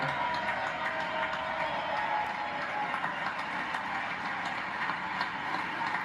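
An audience in a congressional chamber at a State of the Union address claps in dense, steady, continuous applause, heard somewhat distant and even in level from start to finish.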